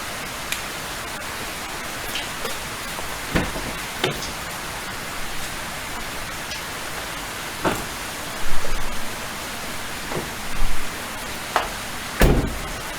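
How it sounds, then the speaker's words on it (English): Heavy rain drums steadily during a Holden L67 engine manifold insulator install, a dense hiss with scattered louder drops and knocks breaking through, no voices. "I can't really hear it over the rain"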